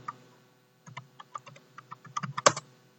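Computer keyboard typing out a chart title, a short burst of light close keystrokes after a pause, quickening toward a final sharp tap.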